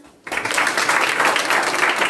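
Schoolchildren in a classroom burst into clapping after a short quiet moment, a loud, close, continuous patter of many small hands that holds steady to the end.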